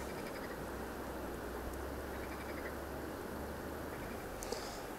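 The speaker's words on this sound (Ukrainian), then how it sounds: "Дивіться, який дощ вже починає пускатися." Rain begins to fall at a riverside catfish fishing spot, a faint steady hiss of drops spread evenly throughout, with no talking.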